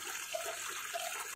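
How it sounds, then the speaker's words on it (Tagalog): Water poured into the reservoir of a self-watering plastic bottle planter, a steady close splashing stream running the whole time with no talk. "Ang susunod na gagawin ay lalagyan natin siya ng tubig."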